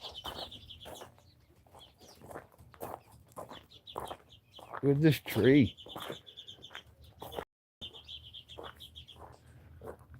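Birds chirp at sunset, repeated bright calls at a moderate distance, with a louder rooster-like squawk midway and someone talking over them.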